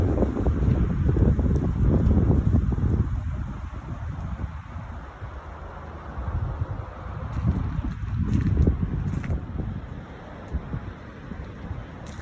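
Gusty outdoor wind roars and buffets the microphone beside a Quantum2020 vertical axis wind turbine, a continuous low rumble that swells and eases in waves, with no voices.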